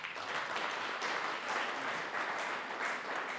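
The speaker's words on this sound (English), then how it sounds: "Can you clap for these people?" Audience clapping in a church mission talk, a steady wash of applause from a room of people that holds at a moderate, slightly distant level throughout.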